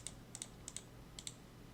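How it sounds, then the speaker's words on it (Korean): Keys on a computer keyboard are pressed while deleting objects in Rhino 3D modeling software, a few faint, crisp clicks tapped in pairs at an uneven pace over a quiet room hum. "키보드에 딜리트를 누르면 지워집니다"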